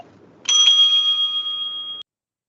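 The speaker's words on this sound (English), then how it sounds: "and we'll ring the bell twice" A single bell ring opening a debate-round signal, bright and sustained with a clear ringing tone that decays over about a second and a half before stopping abruptly; only one strike is present.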